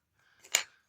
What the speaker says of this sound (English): we're going to cut that small bit off, actually